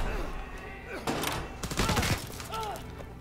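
Gunfire from the World War II shooter Call of Duty: WWII, a burst of several close shots around the middle of a busy game scene with a voice talking over it.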